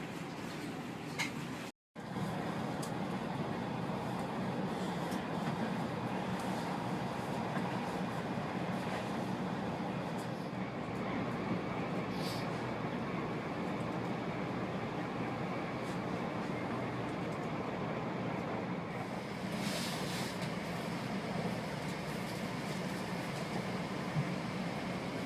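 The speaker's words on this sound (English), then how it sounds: "This train is very crowded too." A steady, moderately quiet rumble fills the interior of a crowded moving train in the Netherlands, heading toward Groningen, with even rolling noise throughout and one brief dropout near the start.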